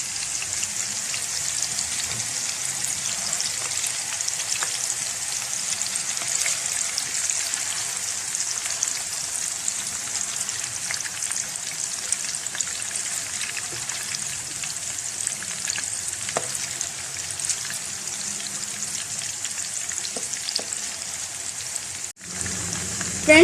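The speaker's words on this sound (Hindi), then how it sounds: "कबाब हमारे पक रहे हैं हल्की आंच पर" Mince meat kababs fry gently in a pan over a low flame, giving a steady, even sizzle that carries on unbroken with no one speaking.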